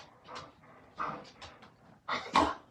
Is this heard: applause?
no